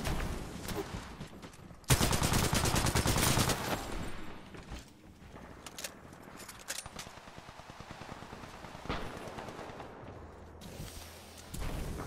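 A weapon fires in Titanfall 2 as a loud, sustained burst of automatic gunfire lasting a couple of seconds. Quieter shots and battle noise follow, with a brief softer burst near the end.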